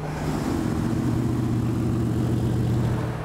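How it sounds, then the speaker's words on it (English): A 1960s Mercury Park Lane idles with a deep, throaty rumble, steady and close, its low even engine note holding throughout without revving or voices. "that sounds way too bad for a Merc Park Lane"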